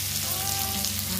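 Chickpeas fry in a home kitchen pan with a continuous, even sizzle, close and steady, with no talk over it.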